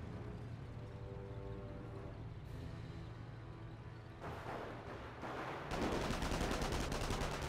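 Rifle grenades exploding in a video game, a dense run of rapid gunfire-like bursts and blasts that builds louder toward the end, with no talking.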